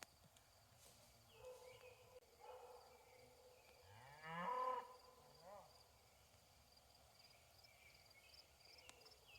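Cattle on a small Maine farm practising rotational grazing give a couple of moderately distant moos, one louder and drawn out in the middle, against a quiet outdoor background with faint birds.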